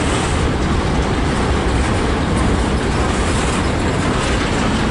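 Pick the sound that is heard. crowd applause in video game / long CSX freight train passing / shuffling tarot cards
long CSX freight train passing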